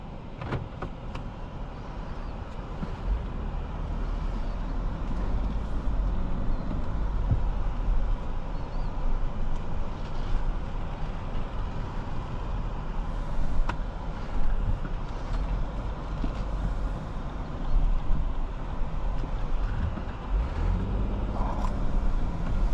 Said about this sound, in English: Let's get this car out on the road and see how it drives.